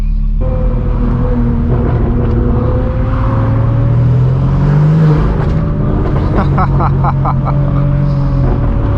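A straight-piped BMW M4 G82 drives with a loud, constant exhaust drone heard from inside the car, its pitch rising slowly as the engine pulls.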